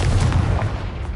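Confringo fire spell blast in Hogwarts Legacy, a loud, close, continuous booming roar with rapid gunfire-like pulses throughout its short length.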